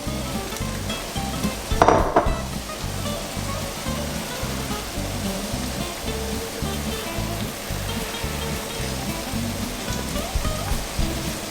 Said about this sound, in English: I'm going to add the crab now and the prawns just to warm through.